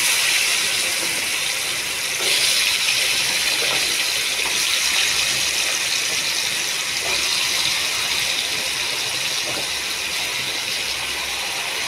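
Cut potatoes hit hot oil with turmeric and salt, a bright, continuous sizzle that jumps louder partway in and then crackles on steadily, close by and with no talking.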